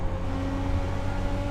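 A car engine held under throttle gives a loud, steady droning hum with low buzzing harmonics that barely changes pitch across the short stretch, with no voices.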